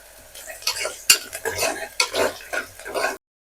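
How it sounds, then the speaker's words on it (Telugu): Ginger garlic paste with curry leaves frying and being stirred in hot oil in a pan, with close utensil scrapes and clinks over a steady soft sizzle, lasting a few seconds before cutting off. "అల్లం వెల్లుల్లి పేస్ట్ పచ్చివాసన పోయే వరకు వేయించుకోవాలి"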